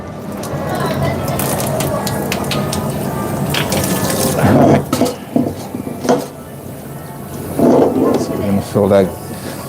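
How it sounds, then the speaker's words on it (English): Cold tap water runs into a big cooking pot in a busy work kitchen, a steady loud rush with metallic clanks of pots and dishes breaking through near the end. "Fill our big pot up with some cold water"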